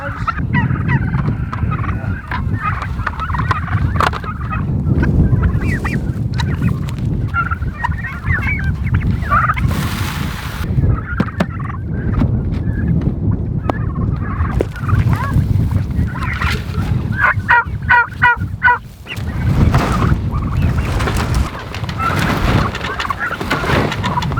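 A flock of turkeys gobbling repeatedly and overlapping, loud and close, with a steady outdoor background and a few faint voices.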